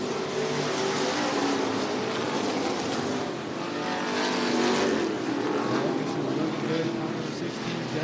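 Dirt track race cars roar around the oval at Cottage Grove Speedway in Oregon, a dense, continuous engine rumble with swelling passes, heard under an announcer's commentary.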